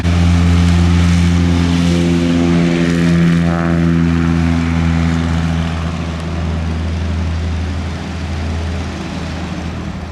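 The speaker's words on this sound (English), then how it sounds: "The Fokker DR1 triplane taxiing to the south end" A Fokker Dr.I triplane taxis with its engine droning loud and steady nearby, a low rough propeller hum holding for ten seconds and easing slightly toward the end, with no voices.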